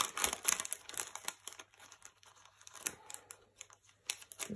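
A reusable Chalk Couture transfer is peeled up off its backing with soft, close crinkling and tearing rustles in short irregular bursts, quiet and without talk.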